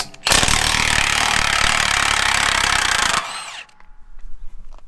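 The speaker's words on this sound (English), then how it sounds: "That's Milwaukee fuel power right there." A Milwaukee Fuel power tool roars at full power on rusty hog barn equipment, loud and close for about three seconds before cutting off abruptly, followed by quieter rattles and handling noises.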